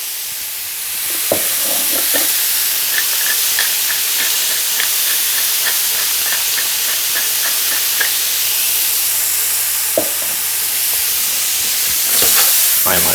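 A pan of gnocchi with Brussels sprouts, mushrooms and onion sizzles steadily, seasoned with salt and pepper, with a broad hiss and a run of small clicks and clatters as the vegetables are tossed, plus a few louder knocks.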